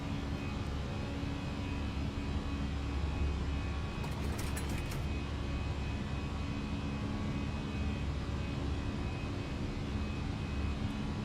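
Simulated Fenix A320 airliner engines in Microsoft Flight Simulator 2024 during climb out on a Liverpool to Belfast leg: a steady low cabin drone with faint whine, constant and unbroken throughout, no talk.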